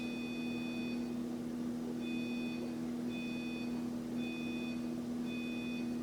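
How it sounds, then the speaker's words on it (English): Electronic beeps from a pay box timer device starting up, a steady series of short, clear tones repeating about once a second over a constant low hum. "if you can hear that beep, that's the device starting up for 85 minutes"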